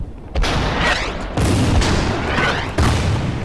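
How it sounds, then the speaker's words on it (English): Artillery fire in a strategy video game: three heavy booming blasts land roughly a second apart, each loud and followed by a rumbling tail, with no talking. "we'll target this guy with artillery"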